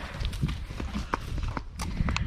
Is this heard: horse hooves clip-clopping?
yes